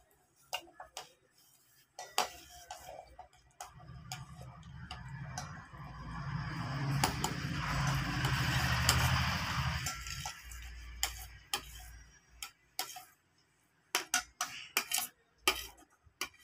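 Chopped pomegranate, banana, grapes, orange, apple and papaya pieces go into a bowl for fruit salad. Several soft ticks and small clatters come before and after a longer, softer rustling tumble, all quiet and close.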